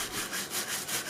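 Stiff brush scrubbing a collected used tire being cleaned for reuse as home furniture in N'Djamena, Chad: a steady, close back-and-forth rasping in repeated strokes, with no talk.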